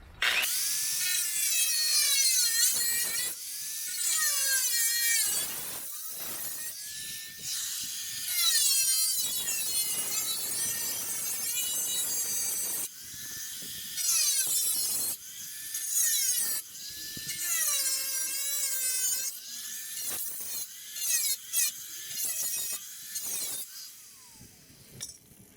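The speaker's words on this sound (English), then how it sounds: "we'll just use the grinding tool to get the rest" A handheld grinder cuts through carbon fiber fenders during an Infiniti G35-to-G37 front end conversion. It makes loud, harsh, high-pitched whining bursts that start and stop repeatedly, with brief pauses between cuts.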